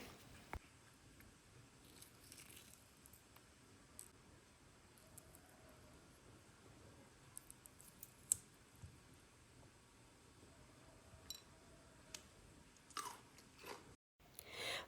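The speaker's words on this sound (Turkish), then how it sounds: "Burada bir ısırık aldım" Close-up crunching bites and chewing of a crisp homemade pickle, soft repeated crunches and mouth sounds at low level with a few sharper snaps near the end, no talking.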